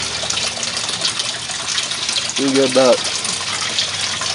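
Water gushes out of a swirl filter in a steady, broad rushing wash while someone talks briefly over it.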